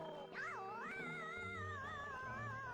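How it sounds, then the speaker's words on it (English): A cat in the video game Pac-Man 2: The New Adventure gives a long, wavering, drawn-out meow, close and clear and heard alone. "He would not be able to handle that cat, for example"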